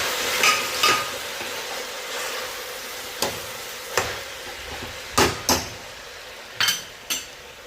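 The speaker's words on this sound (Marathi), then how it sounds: "आता हे मस्त परतून घेऊया" Shahi masala sautés in a pan for masale bhat, a low background sizzle punctuated by several sharp metallic knocks and scrapes of a spoon against the pan, no talking.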